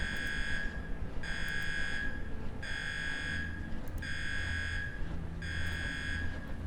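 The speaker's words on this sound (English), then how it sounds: "So the alarm is still going off." An alarm blaring in the game UnderRail, sounding as repeated harsh buzzer blasts of about a second each with short gaps, loud and steady over a low droning background.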